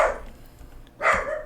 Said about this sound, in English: That's my dog vocalizing.